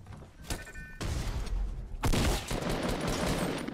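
Fortnite Battle Royale gunfire arrives as a single crack, then two longer rattling bursts of rapid shots, loud and near, with no talking.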